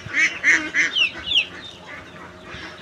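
Ducks and chickens crowd around feed, giving repeated honking quacks and clucks in a busy, overlapping rhythm, close by with no talk.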